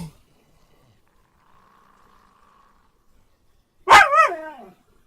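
A dog barks once in the video game INSIDE, a single loud rough bark with a short trailing yelp near the end, after a quiet stretch holding only a faint hum.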